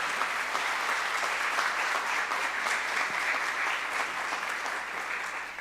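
An audience claps steadily at a school district tenure and retirement celebration, a dense, sustained round of applause that holds at an even level throughout and tapers slightly at the end.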